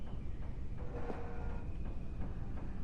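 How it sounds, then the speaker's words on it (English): Train passing in a video game, a low continuous rumble with faint metallic clatter and a brief rising tone near the middle, steady and moderately loud throughout. "Is that a train?"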